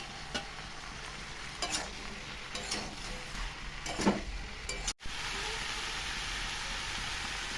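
Mushrooms tipped into a pan of broccoli sizzle steadily, with intermittent scraping stirs and clinks of a spatula up close, then a louder continuous fry after a brief cut.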